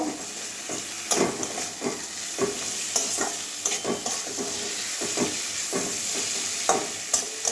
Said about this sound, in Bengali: এবারে ভেজে রাখা মাথাটা দিয়ে দিচ্ছি মশলার সঙ্গে একটু কষিয়ে নেব